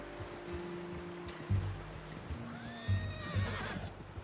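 A horse in the video game Red Dead Redemption II whinnies and snorts nearby over clip-clopping hooves, with a faint rushing ambience underneath; there is no talking.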